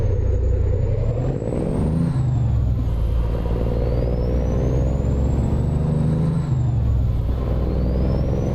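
The Cummins N14 engine of a Peterbilt 389 glider truck hauling an Etnyre lowboy in American Truck Simulator, a deep steady diesel rumble with rising and falling whine as it runs, loud and continuous.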